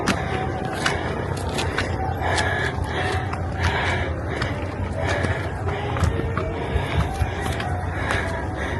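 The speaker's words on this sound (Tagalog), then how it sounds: "Hinihingal na ako." Heavy, rapid panting breaths after walking to the grotto in Mariveles, Bataan repeat close to the microphone over scuffing footsteps and outdoor background noise.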